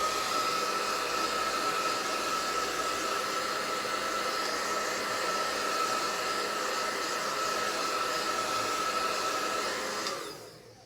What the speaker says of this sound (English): I have this fancy dancy blow dryer, so we can speed things along.